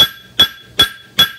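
A farrier's hammer rings on a horseshoe held against an anvil while forging a hind shoe, four sharp metallic clangs in an even rhythm about every 0.4 seconds, close and loud with a bright lingering ring.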